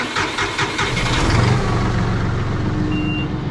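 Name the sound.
tractor engine idling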